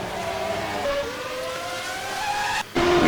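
Formula One race cars at the 1991 Brazilian Grand Prix, including a McLaren and a Larousse Ford: a sustained, high engine whine rising and falling in pitch, fairly close and loud, with a brief cut near the end.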